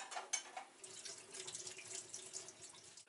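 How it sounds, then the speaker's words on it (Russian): Tap water running into a kitchen sink while pork is rinsed under it, a faint steady splashing stream with small irregular drips and spatters. "После чего наше мясо нужно промыть под проточной водой."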